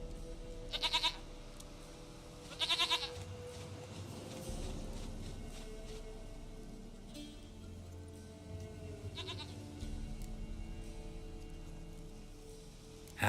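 A goat in The Witcher 3 video game gives several short, quavering bleats, a few seconds apart, over a low game ambience.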